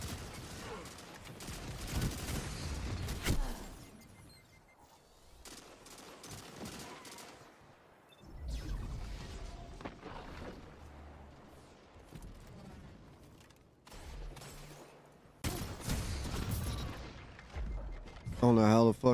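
Hand cannon gunfire in the shooter Destiny, several sharp bursts of shots in irregular clusters amid game combat noise, with a voice talking over it.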